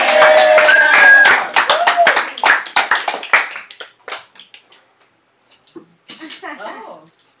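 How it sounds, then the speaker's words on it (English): A comedy club crowd claps for the next comedian, loud dense applause that thins into scattered claps and fades out, followed by a pause and then brief voices and murmuring. "let's give a big round of applause for our next one,"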